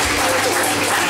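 Brief burst of applause from a comedy club crowd, dense and loud clapping filling the room, with a voice faintly mixed underneath.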